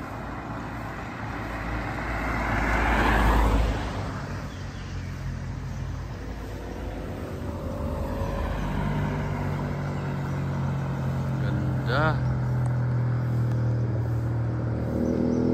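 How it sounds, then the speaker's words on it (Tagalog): Motorcycles and cars pass along a wooded mountain road near Marilaque, engines swelling as one vehicle roars by close, then a steady traffic rumble and a second approaching motor. "Maraming mga motor na dumadaan dito, guys. Maraming mga sasakyan."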